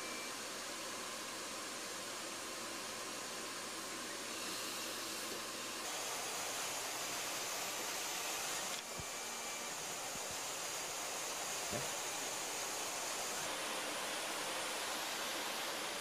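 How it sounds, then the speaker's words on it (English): A regular house vacuum drawing air through slots to suck single pages through a book scanner, a constant loud whooshing roar whose tone shifts slightly a few times, with occasional faint clicks and no talk. "there's a vacuum, in this case just a regular house vacuum that's connected to those slots"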